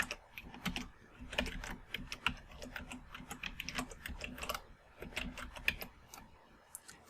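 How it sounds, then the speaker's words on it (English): Fast, uneven keystrokes on a computer keyboard while an email address is typed, close and fairly quiet, with bursts of clicks and short pauses, no talking. "Another example is when you are typing in an email address or a web address."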